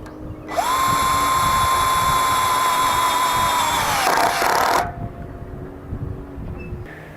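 A power drill drives a self-tapping screw into a mounting bracket, one loud whine that holds steady for about four seconds and then cuts off, with quieter handling noise afterward.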